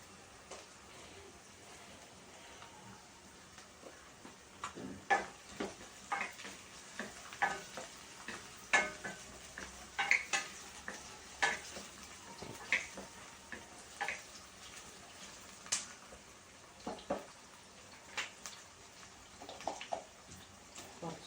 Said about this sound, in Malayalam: ഉള്ളി പകുതി വഴണ്ട് കഴിയുമ്പോഴത്തേക്ക് ഉരുളക്കിഴങ്ങ് ഇട്ട് അത് കുറച്ചു നേരം